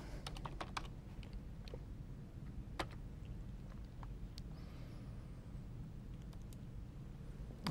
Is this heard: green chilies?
no